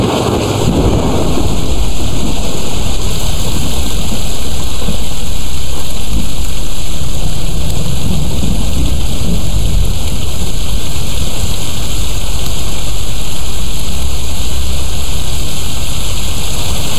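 Heavy rain pours down steadily in the Tomb Raider video game, a loud continuous downpour with rumbling thunder beneath it, no voices over it.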